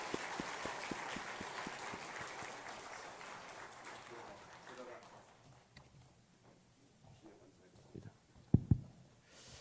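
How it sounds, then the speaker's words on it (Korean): Congregation applause at a Christmas Day church service fills a dense, crackling wash for about five seconds, then thins out and fades to a few scattered claps and small knocks. "다시 한번 큰 박수로 우리 환영하고 축복하겠습니다."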